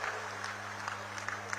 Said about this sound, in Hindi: हमें तालियों का एक महोत्सव आज कर देना चाहिए